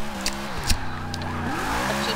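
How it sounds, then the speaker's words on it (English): An all-wheel-drive car power slides in a video game, its engine droning with shifting pitch as tires squeal through the slide, while people talk over it. "it's actually power sliding because this car is all-wheel drive"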